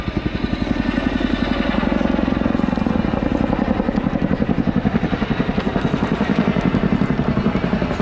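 A Chinook helicopter in an air show display flight gives a loud, continuous rhythmic rotor thudding with a heavy engine drone, close and powerful, with a commentator's voice faintly underneath.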